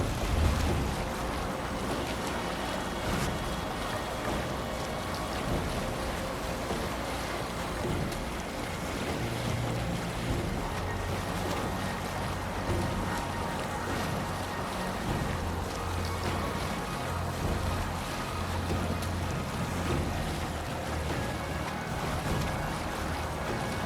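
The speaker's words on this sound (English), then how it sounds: "Shall we raise the sail, Eivor?" A sailing ship moves over ocean waves in Assassin's Creed Valhalla, a constant rush of water and wind with a low creaking rumble underneath, steady and moderately loud throughout with no voices.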